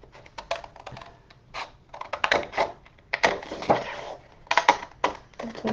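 Scissors cutting along the lines of a paper owl mask pattern made for Mardi Gras, heard as rapid, irregular snips and rustles, close up, with short pauses between runs of cuts and no talking.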